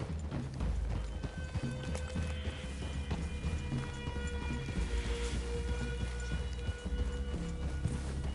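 Horses' hooves clip-clop steadily in Red Dead Redemption 2 as riders move at a walk toward a clearing, the rhythmic beats close and continuous under a low, sustained musical score.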